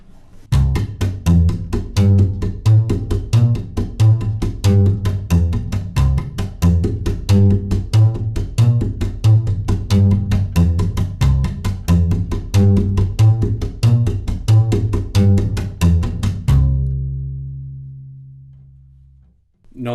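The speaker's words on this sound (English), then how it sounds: "the walk-in bass line in C, but using part of the rumba rhythm" Rockabilly slap bass walks a bass line in C with a rumba rhythm, a steady run of thumping low notes and percussive slaps, loud and close, ending on a long ringing note that fades out.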